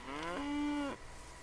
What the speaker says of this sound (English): Some cows.